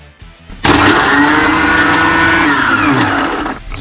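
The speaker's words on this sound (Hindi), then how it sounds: "ओरियो कुकीज भर गया, इसको हम डालेंगे मिक्सी के अंदर." A blender grinding Oreo cookies roars loudly and steadily for about three seconds, a harsh grinding whir that starts abruptly and cuts off near the end.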